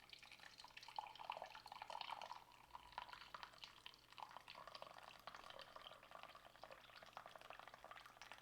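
Hot water poured while preparing a French military combat ration meal: a steady, faint trickling and dripping stream with bubbling, continuous throughout, with no voices.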